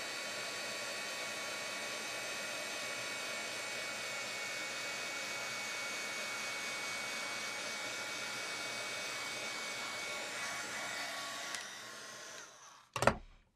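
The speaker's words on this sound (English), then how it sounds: "Now I'll grab my heat tool and we'll melt the powder." A heat tool blows a steady, even whir while melting embossing powder on a stamped card panel, holding constant for about eleven seconds before it cuts off with a brief clatter at the end.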